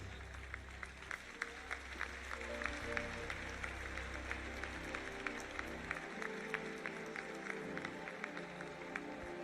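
A church congregation claps during a worship service, a steady rhythmic patter of hands under low organ-like tones and voices, distant and fairly faint overall.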